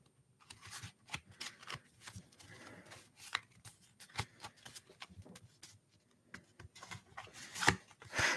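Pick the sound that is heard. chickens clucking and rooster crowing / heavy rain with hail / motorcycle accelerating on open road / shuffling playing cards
shuffling playing cards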